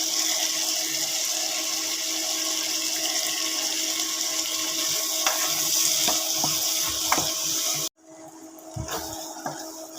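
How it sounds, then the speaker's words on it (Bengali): Chopped tomatoes and spices fry in a pan for a singi fish curry, a steady close sizzle with scattered stirring clinks before cutting to a quieter, patchier frying sound. "এবার দিয়ে দেবো কুচানো টমেটো টমেটো একটু বেশি করে দেব"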